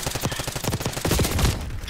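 Gunfire from the video game Call of Duty Black Ops 6 comes as rapid, repeated automatic bursts in quick succession, fairly loud and close.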